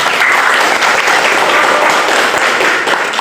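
A school classroom bursts into dense applause, many hands clapping together loudly and continuously for about three seconds.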